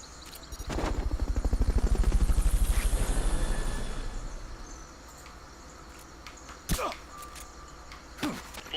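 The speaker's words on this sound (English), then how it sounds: "Fulton recovery helicopter is complete." In the video game Metal Gear Solid: Peace Walker, a Fulton recovery helicopter's rhythmic rotor chop swells loudly, then fades over several seconds, followed by a couple of sharp, brief game effects.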